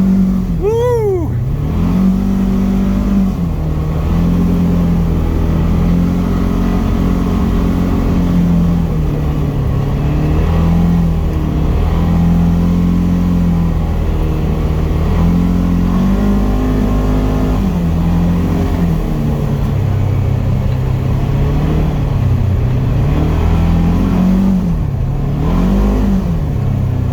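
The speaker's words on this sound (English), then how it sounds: "I'm in four-wheel drive and it's still trying to get squirrely." A four-wheel drive car on a slippery, salted and sanded winter night road hums loudly and continuously, its engine note rising and falling as it revs, with occasional speech.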